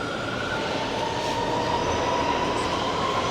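An Amsterdam metro train rolls along with a steady, loud rumble and a faint high wheel whine running throughout, with no talking.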